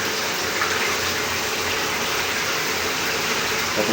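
Water from a shower heater runs in a steady, continuous gushing stream, close and fairly loud, with no break and no voices.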